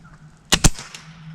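A .22 Air Venturi Avenger PCP air rifle fires outdoors, giving two sharp, close cracks about a tenth of a second apart, then a faint after-tick and quiet background.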